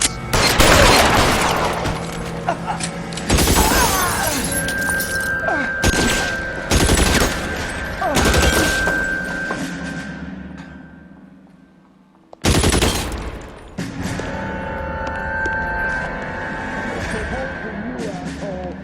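Rapid gunfire bursts in a shootout in the video game L.A. Noire, loud sustained volleys with sharp cracks and a sudden silence before firing resumes, under shouted voices and a ringing musical tone.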